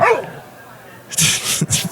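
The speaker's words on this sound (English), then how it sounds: "those are some new barks from Basil, the late great Basil." A boxer dog barks in a quick burst of several sharp, loud barks near the end, after a quieter stretch opening with a brief voice.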